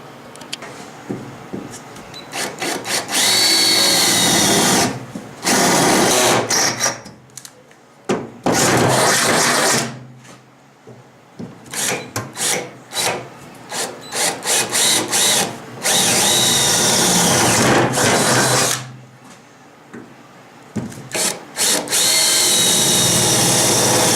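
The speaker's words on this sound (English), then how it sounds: "I just drilled up from the bottom through the holes" A power drill bores up through holes in VW Thing body panels, in repeated loud whining bursts separated by short pauses and stop-start revving.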